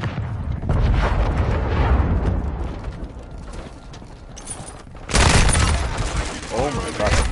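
Rapid rifle fire from a first-person shooter video game crackles loudly in dense volleys, easing off midway, then surging again in a sharp, heavy burst, with a player talking over the action.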